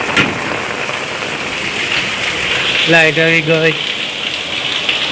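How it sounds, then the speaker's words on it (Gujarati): Heavy rain pours steadily as a loud, dense hiss throughout, while someone speaks briefly over it partway through. "વરસાદ જોરદાર પડે"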